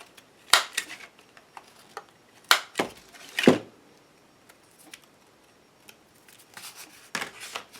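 A corner cutter trims damp Mod Podge-coated paper for a toilet paper roll pocket book, producing several crisp, close snipping clicks in irregular bursts with quiet pauses between them.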